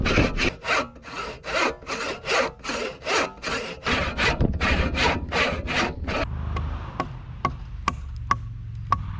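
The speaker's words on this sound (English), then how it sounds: "I need to cut the rafter seats into the top plates." Hand saw cutting rafter seats into top plates of dried white oak timber, a steady rhythm of about a dozen loud back-and-forth strokes, then slower scraping with light sharp ticks, no talking.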